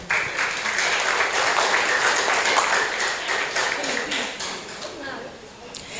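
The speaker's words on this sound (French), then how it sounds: "Applaudissez-vous." A room full of people applauds, loud and steady at first, then gradually thinning out toward the end.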